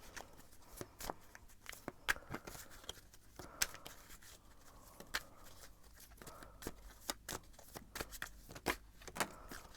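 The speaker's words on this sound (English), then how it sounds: "I'm gonna shuffle a little bit more about your future spouse" Tarot cards being shuffled by hand, a quiet, close run of irregular papery snaps and riffles with no talking.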